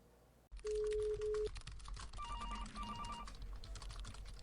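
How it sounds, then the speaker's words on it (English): Telephone ringing in a sheriff's office, a steady tone followed by repeated electronic trill bursts, loud and close with no talking. "The phone rings"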